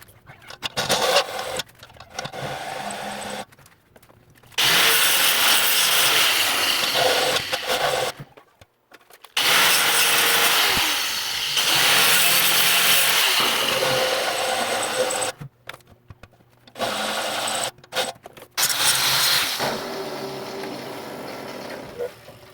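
A propane bottle being made into a tent stove gets a small edge ground down with a power grinder, loud bursts of whirring and rasping broken by short pauses, with no speech.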